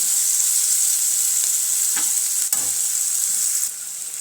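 Chopped tomatoes sauté in hot oil in a pan, a constant loud sizzle broken by a couple of sharp spoon taps and stirring scrapes, with no voices.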